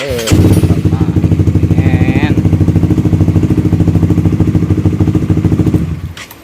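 A Honda CBR 150 motorcycle engine runs close up after starter repair, a loud, steady pulsing idle lasting several seconds before it shuts off, with a voice speaking briefly over it.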